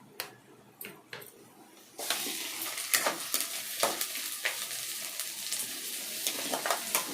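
Garlic and ginger paste drops into a pan of frying onions for a pulusu, the quiet sizzle jumping to a loud, steady crackle with clicks of stirring through to the end.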